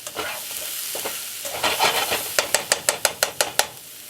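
Spinach filling for a stuffed steak roll cooking down in a pan, with a soft sizzle under scraping stirs that turn into a quick run of about ten rhythmic sharp taps of a utensil against the pan.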